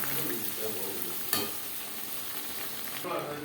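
Marinated chicken with onion and tomato being stirred in a pan for biryani, a soft sizzle under scraping strokes with one sharp clack of the spoon against the pan partway through.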